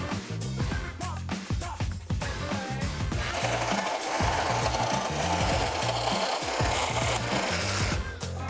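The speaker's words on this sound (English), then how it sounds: "until I make contact and start cutting through the wood" A Craftsman reciprocating saw cuts through wood, giving a loud, steady buzzing and rasping drone that runs continuously for several seconds, with the blade chatter turning rougher and denser partway through the cut.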